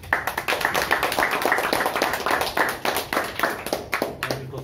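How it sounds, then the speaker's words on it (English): An audience at a Toastmasters club meeting in Kolkata claps for a speaker taking the stage, with distinct hand claps in uneven rhythm forming a modest, close round of applause. "Let's keep the big round of applause going for our..."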